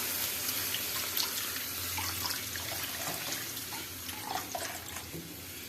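A continuous rush of water pouring into a pan of mustard paste masala, steady and fairly loud, with light splashing and no voices.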